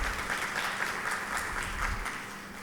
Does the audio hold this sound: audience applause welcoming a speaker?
yes